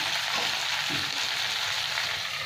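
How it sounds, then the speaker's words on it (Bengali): Vegetables for Bengali shukto fry steadily in a pan, a dense continuous sizzle with faint stirring scrapes underneath, close and even throughout with no talk. "ওই এক এক করে ভাজতে থাকি"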